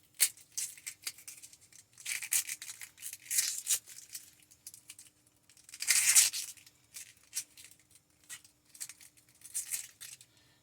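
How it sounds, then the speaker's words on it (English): A knife dices onions finely on a cutting board for a turkey roll filling, giving quiet, irregular crisp chopping and slicing bursts with short pauses between them, and no one talks. "We're going to want to small dice our onions as possible."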